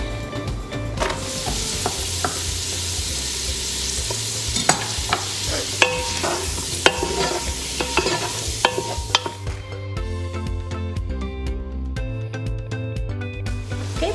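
Onion sizzles and crackles in melted Earth Balance vegan butter in a pan, a busy, close frying hiss with repeated sharp stirring clicks and scrapes that ease toward the end.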